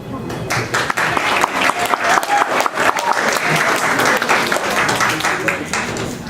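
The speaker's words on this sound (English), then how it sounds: "please hold your applause to the very end" Audience at a Mesquite candidate forum applauding, close and loud rapid clapping from a modest crowd, rising and holding for several seconds before thinning toward the end.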